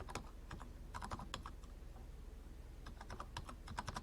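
Rapid clicks of a computer keyboard as data is typed in, bursts of keystrokes with short pauses, close and fairly quiet over a steady low hum.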